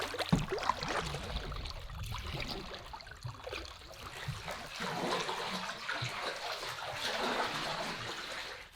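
Continuous splashing and rushing water from a boat paddled upstream on a small Lithuanian river, steady and fairly close, with swells of louder wash over nearly nine seconds.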